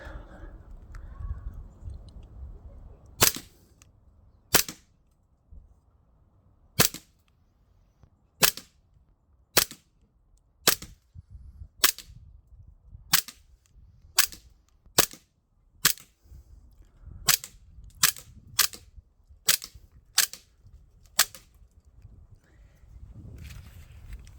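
Umerex Glock 19 Gen5 MOS air pistol firing at targets: about eighteen sharp, loud single shots spaced roughly a second apart, with short pauses between some, over a quiet background and no talking.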